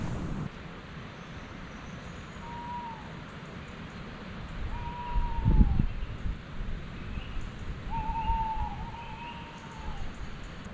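Tawny owls hoot at night over a windy winter campsite at North Lees in the Peak District, three drawn-out calls at a moderate distance standing out above steady wind noise, with a louder gust midway.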